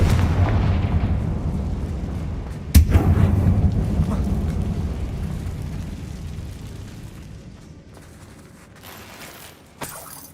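A Confringo spell explodes inside an abandoned mine in Hogwarts Legacy with a loud, sharp blast, followed by a rumbling decay and a second smaller impact near the end.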